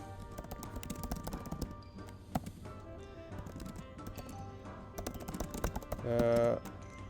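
Fast, irregular clicking of keys on a computer keyboard close by, running continuously, with a brief hum and some background sound toward the end.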